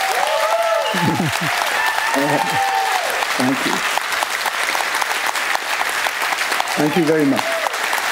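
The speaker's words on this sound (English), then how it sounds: "A warm applause for you." Audience applause fills a literary interview event with an author, a steady dense wash of clapping that runs the whole time while a voice speaks over it.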